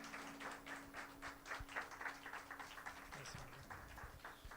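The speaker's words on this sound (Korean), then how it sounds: "우리 뜨거운 박수로 한번 우리 강사님 초청하겠습니다" A church audience gives steady, moderately loud applause to welcome a speaker, with dense continuous clapping that holds throughout.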